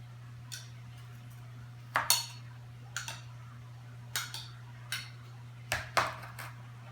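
A spoon working softened butter in a bowl for a sweet potato pie, giving a series of sharp clinks and scrapes, about eight or nine spaced irregularly over several seconds, over a steady low hum.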